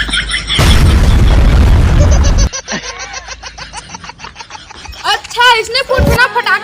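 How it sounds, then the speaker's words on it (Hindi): A loud firecracker bursts in the first couple of seconds during Diwali, followed by excited voices and laughter close by. "फालतू लोग पटाखे नहीं फोड़ते, मेरे जैसे लोग पटाखा फोड़ते हैं।"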